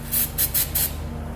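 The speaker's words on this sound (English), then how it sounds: "I'm going to spray a little bit of penetrating oil on there" Penetrating oil sprayed onto a rusted bumper beam nut on a 2012 Fiat, four short, sharp hissing bursts in quick succession, close and loud over a low steady hum.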